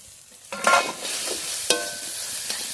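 Prawns frying with stir-fried kochur loti (taro stolons) in a pan, heard as a steady sizzle broken by a few sharp stirring scrapes and clatters, close by with no talk.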